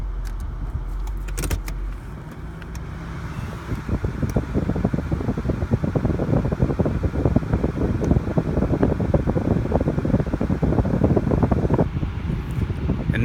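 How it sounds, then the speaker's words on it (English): The air conditioning fan of a Toyota 4Runner blows with a steady, broadband whoosh inside the cabin, rising after a brief click and then holding constant for several seconds. "we will go ahead and switch it over to the AC"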